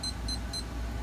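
Preset four-minute lab timer started beside a running centrifuge, giving three short, evenly spaced high beeps over a steady low machine hum, no talk.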